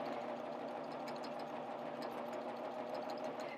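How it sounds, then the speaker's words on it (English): A sewing machine running steadily as it stitches along a fabric edge, a continuous close mechanical whir and hum with no pauses and no talking. "So I'll just finish stitching off this edge."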